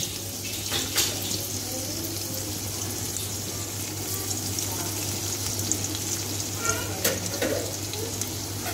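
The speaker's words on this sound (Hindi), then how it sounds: "और थोड़ा सा तलिए इसे" Ajwain, ginger and garlic frying in hot vegetable oil in a kadai, a steady close sizzle running throughout with a few brief clinks and stirring sounds on top.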